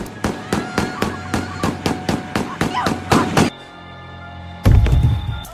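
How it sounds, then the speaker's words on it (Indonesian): A rapid string of about a dozen sharp pistol shots at an even pace, a whole magazine emptied, followed by a pause, then a heavy low thump. "Satu klip pistol ia habiskan untuk si Kopet"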